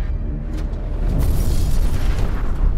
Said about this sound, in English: The convoy is being attacked by hostile troops equipped with mortars.